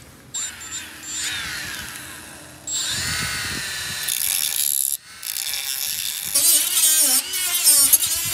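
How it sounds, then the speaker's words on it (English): A power drill bores out spot welds on the sheet-metal body of a Porsche 914 under restoration, with bursts of whining, grinding metal contact that start and stop across the span, loud and close. "We're gonna try to drill all those spot welds out."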